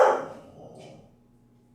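A dog gives a single short, close bark at the start, followed by near silence indoors.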